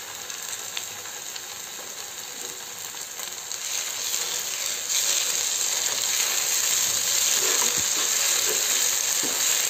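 Boiled, ground gongura paste frying in a hot pan for a soya curry, giving a steady, close sizzle that grows a little louder after the paste goes in and carries on with no talking.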